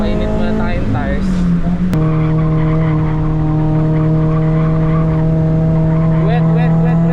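A race car at a 1NZ Cup event revs hard and spins its tyres to warm them, a loud sustained engine drone with tyre squeal, pitch settling into a steady high whine, with people talking over it.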